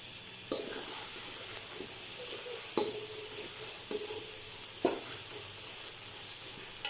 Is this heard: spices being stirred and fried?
yes